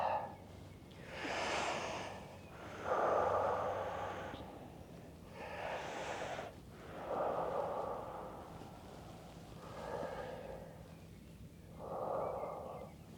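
Slow, deep breaths repeat in a calm rhythm, each long inhale and exhale sounding close and soft, with short quiet pauses between them.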